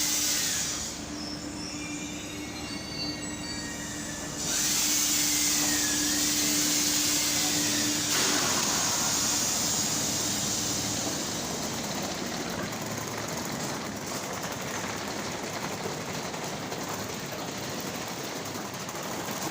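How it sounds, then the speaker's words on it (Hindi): A train pulls into a station in Casablanca, Morocco, giving off a steady mechanical drone and hum with a high whine that shifts as it arrives, heard from the platform with no talking. "ये हमारी जो ट्रेन है वो आ चुकी है"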